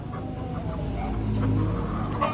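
Hens squabbling and clucking at close range, a steady mix of low clucks and short squawks over a constant background hum.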